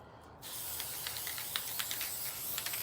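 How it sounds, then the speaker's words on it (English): A short pause, then a steady hiss of spray paint from a can, with faint rattly clicks scattered through the spraying. "first we're gonna spray paint everything"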